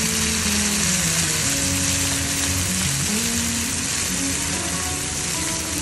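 Chopped tomato frying with golden brown onion in a pan for baingan bharta, a dense, loud, continuous sizzle close by with faint mechanical clicks, no talk.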